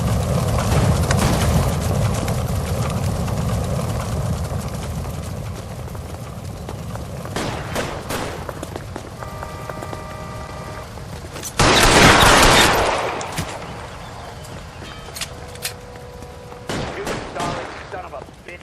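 Gunfire in a video game shootout at the Nicholson Electroplating plant in LA Noire: loud, sharp bursts of shots, with a heavy volley near the middle. Voices and a steady background rumble run underneath.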